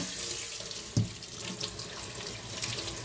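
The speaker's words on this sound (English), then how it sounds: "Now wash your hands off." Tap water runs steadily into a kitchen sink as hands are washed after peeling shrimp, with a brief splash or knock near the start and no talking.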